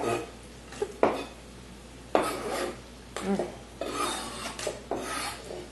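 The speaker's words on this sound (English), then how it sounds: "Scrape all that juice in there." Vegetable juice for ratatouille is scraped into a pot with repeated rasping strokes, close and moderately loud, in uneven bursts with short pauses between them.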